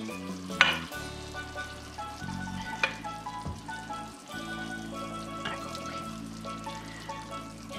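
Prawns sizzle and fry steadily in a pan as prawn bisque is ladled in, with a few sharp clinks and stirring clatter over a continuous close hiss; no voices.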